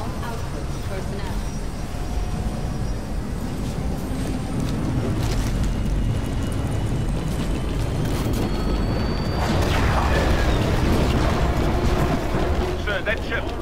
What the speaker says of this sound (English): Blisk, charge the cannons. There's the target. Firing now.